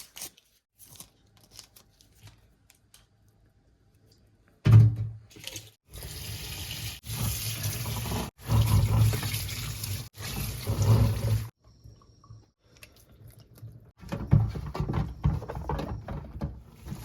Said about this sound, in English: We'll start off by rinsing the veggies we'll be using for our sauce, our red sauce.